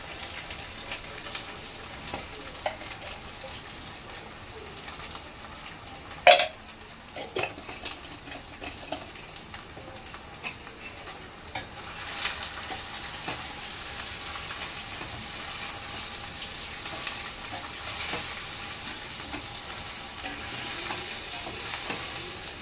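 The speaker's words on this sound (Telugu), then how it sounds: "ఇదిగోండి వేగిని చామదుంపలు వేసుకుందాం." Pieces of taro root frying in a pan and being stirred, with a steady close sizzle throughout, a few sharp utensil clinks, and the hiss growing a little louder in the second half.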